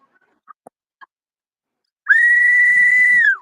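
A whistle is blown once after a few faint clicks, giving one loud, sustained shrill tone that holds steady for over a second and then drops off, with soft low sounds beneath it.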